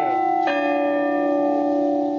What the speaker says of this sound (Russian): В Волгограде оценили возможность исполнения мелодий на колоколах строящегося собора святого князя Александра Невского.